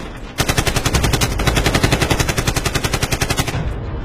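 Rapid automatic gunfire in the dense forests of Gadchiroli district, a sustained loud burst of evenly spaced shots lasting several seconds, with no talk over it.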